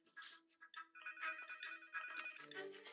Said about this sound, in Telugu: సార్ నారాయణన్ సార్, మీకే ఫోన్.